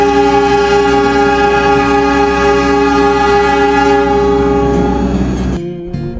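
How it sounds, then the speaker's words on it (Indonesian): Sangkuriang passenger train departing Bandung station in Indonesia, a loud sustained multi-tone horn blast close by with rumbling rail noise beneath, ending abruptly, no speech. "tepat waktu kereta api Sangkuriang diberangkatkan dari stasiun Bandung"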